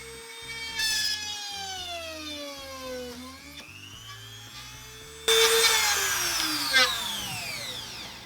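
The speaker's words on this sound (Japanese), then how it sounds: "丸棒に穴を開けてみます。" A small drill on a modified Proxxon router attachment whines steadily with a high, shifting pitch that dips and rises under load, growing harsher and louder as a 3 mm bit cuts into a metal round bar.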